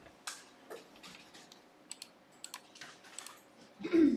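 Computer keyboard typing during accounting data entry, with scattered single key clicks including a Tab press, light and fairly close, ending in a louder burst of noise.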